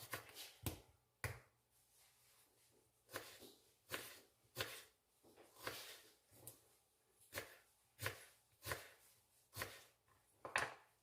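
Vegetables chopped by hand with a knife on a cutting board for cheeseburger soup, about a dozen sharp, evenly spaced knife strikes close by in a quiet kitchen.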